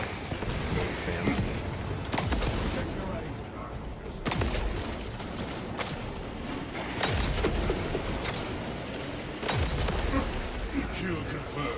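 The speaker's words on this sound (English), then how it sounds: "Fragmentation grenade out!" Fragmentation grenades in a shooter video game go off in four heavy, booming blasts spaced a few seconds apart, each followed by a rumbling tail over dense, continuous battle noise.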